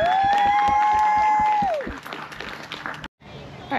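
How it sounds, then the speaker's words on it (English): Family and friends on a camping trip clap for two helpers, a short burst of hand claps over a sustained whistling tone that fades, followed by brief quiet and ambient noise. "How about a hand clap for my two helpers?"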